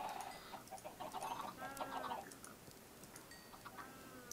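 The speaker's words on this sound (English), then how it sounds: "There's so many chickens." Chickens in a Minecraft-style survival video game cluck and squawk softly in the distance, a scattered flock with overlapping calls over a faint steady background hum.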